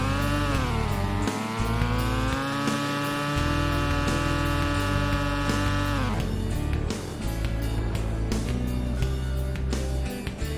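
A car in Garry's Mod, fitted with an ACF engine and ABS brakes, accelerates hard in first gear with a loud rising engine whine. It shifts into second at about six seconds, and the pitch drops before it climbs again.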